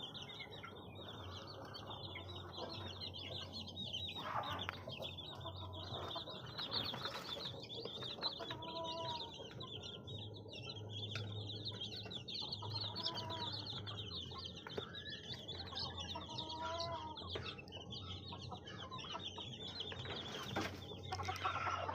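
A brood of newly hatched chicks peeps steadily and shrilly alongside two mother hens, the high chirping continuous for over twenty seconds over a low background hum with occasional flutters and clucks.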